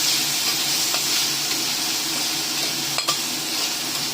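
Seafood and scallops with garlic sizzle loudly in a hot pan, a continuous close frying hiss with a brief clink of a utensil near the end.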